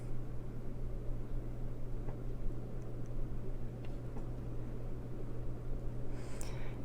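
An electric fan running on high hums steadily in the background of a quiet indoor room where Halloween cards are being crafted, with a constant low drone and faint scattered ticks and rustles near the end.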